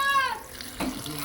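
Tap water running steadily into a sink while cut jackfruit is washed, a close continuous splashing stream over a short moment.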